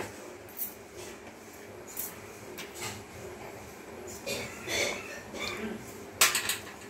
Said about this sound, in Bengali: ফোড়নটাকে মিশিয়ে দিচ্ছি। আর তখন আমি লবণটা একদমই কম দিয়েছিলাম, আর একটু লবণ এর সাথে মিশিয়ে দেব।